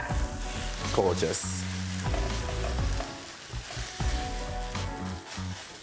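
Canned chopped tomatoes with sugar sizzle steadily in a pan while being stirred, with clattering utensil scrapes and a voice speaking briefly over the cooking.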